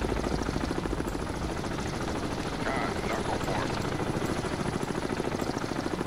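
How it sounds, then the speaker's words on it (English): Helicopter rotor chop in the submarine game Cold Waters, a steady loud pulsing beat that holds throughout as the aircraft passes overhead, with faint speech underneath. "I don't even know why this helicopter would have to get up and move at all."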